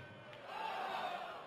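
A darts crowd at the PDC European Darts Championship 2014 roars in a rising collective murmur and shout, sustained and distant, as if expecting a dart to land in during a Gary Anderson versus Terry Jenkins match.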